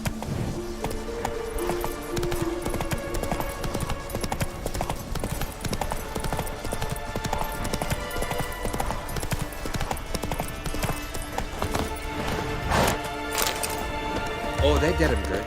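Roach the horse gallops in The Witcher 3, rapid hoof clip-clops pounding in a steady rhythm close by, with occasional clacks and a brief whinny, while someone speaks over it.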